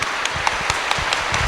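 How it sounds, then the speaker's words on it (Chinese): Audience applause welcoming a Buddhist master onto the stage at a reading fair, a brief and fairly even patter of many hands clapping at moderate volume. "我们掌声有请觉具法师"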